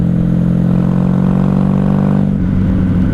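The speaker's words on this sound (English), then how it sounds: "This thing sounds a bit like a chopper." A 1994 Honda Magna 750 VF750C motorcycle engine rumbles steadily at close range while riding, with a deep, throbbing chopper-like tone, dropping slightly in pitch near the end.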